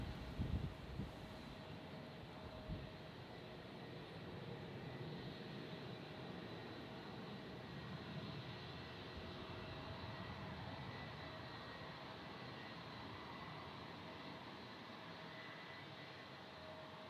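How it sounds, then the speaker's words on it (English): United Airlines Boeing Dreamliner jet landing at San Francisco International Airport, a distant, steady engine roar and whine holding at an even level throughout. "That's United Airlines Dreamliner."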